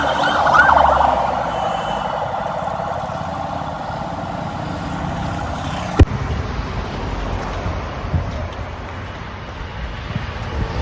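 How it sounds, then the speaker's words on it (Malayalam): An ambulance siren wails along a half marathon course, somewhat distant and strongest at the start before fading beneath steady outdoor crowd and road noise. "ആംബുലൻസ് നമുക്കുള്ളതല്ല, ആംബുലൻസ് നമുക്കുള്ള"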